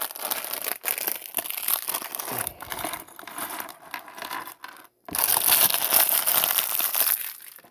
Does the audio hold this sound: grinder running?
no